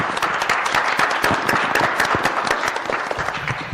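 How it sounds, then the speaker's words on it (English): An audience applauds panelists at the close of a session, with steady, crisp clapping from many hands sustained throughout, some individual claps standing out near the front. "please give us our wonderful panelists a round of applause"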